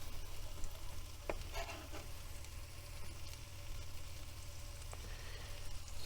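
Garlic frying in a stir fry pan for a tofu and udon noodle dish cooked in a van, a steady low sizzle running throughout with a few brief clinks and scrapes of stirring.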